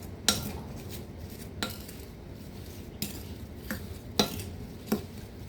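A spoon stirs strawberries with sugar and lemon juice in a bowl, striking the sides in sharp metallic clinks at irregular intervals, about six in all, close and clear, with a quiet bed of soft mixing between them and no talking.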